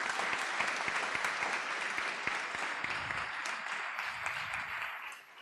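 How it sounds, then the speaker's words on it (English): Audience applause at a high school graduation and award ceremony, a broad wash of clapping with a few sharp, close individual claps, slowly thinning toward the end. "Please give them a round of applause."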